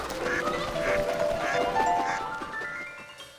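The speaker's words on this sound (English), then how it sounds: "it's just a bunch of birds" A flock of cartoon birds quacking like ducks, a busy chorus of overlapping nasal calls over soft music in an ice fishing scene.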